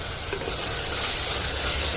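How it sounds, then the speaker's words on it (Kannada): Masala with turmeric powder being stirred in hot oil for egg biryani, a soft continuous sizzle with scraping stir strokes that swell gradually louder toward the end, close and alone. "ನೀಟಾಗಿ ಮಿಕ್ಸ್ ಮಾಡ್ಕೊಳ್ಳೋಣ ಒಂದ್ಸಲ"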